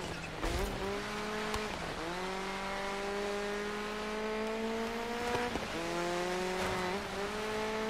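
A car drifting through sharp turns in the Dirt 5 video game, a steady engine drone with tires squealing and skidding through the turns, loud and sustained with repeated slides.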